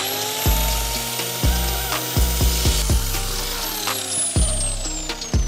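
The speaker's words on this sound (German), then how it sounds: "Aber jetzt sägen wir das erstmal" A profile for a flat-roof solar panel mounting frame is sawn in steady, repeated strokes, each one a gritty rasping pulse, loud and close with no talking.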